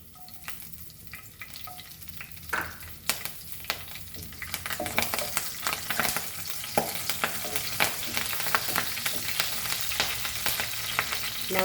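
Curry leaves and a green chili hit hot oil in a pan, bursting into a loud, crackling sizzle with sharp spits and pops that build and hold steady.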